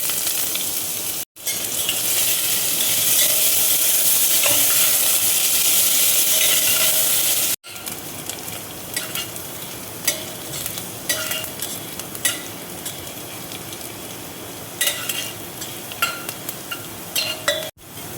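Dried chillies, bay leaves and chopped ginger fry in ghee with a loud, hissing sizzle that cuts out briefly twice, then settles into a quieter crackle broken by metal spoon scrapes and clinks against the pan.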